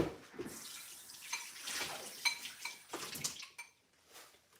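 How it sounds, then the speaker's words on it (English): A bowl is rinsed under running water from a tap, with a quiet splashing flow and occasional light clinks of the dish against the sink, fairly faint and close. "now I'm gonna rinse out this bowl and rinse out the bowl"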